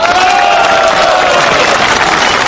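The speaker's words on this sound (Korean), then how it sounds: "여러분 다시 한번 큰 박수 부탁드립니다." A loud, dense wash of applause from a rally crowd at a political gathering, steady throughout, with faint cheering voices mixed into the clapping.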